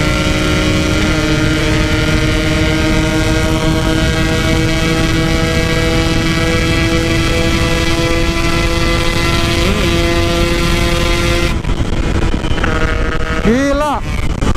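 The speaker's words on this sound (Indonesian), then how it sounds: "Gila motornya kenceng banget sumpah." A Yamaha RX King two-stroke motorcycle runs flat out at top speed with a torn oil hose, giving a loud, steady, high engine drone with rushing wind, then a few rising revs near the end.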